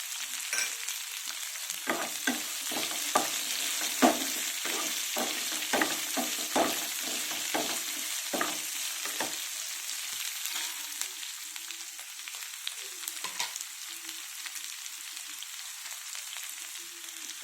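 Dried red chilies fry in hot oil with onions for a bitter gourd fry, giving a close, steady sizzle broken by bursts of stirring scrapes early on, then settling into an even crackle.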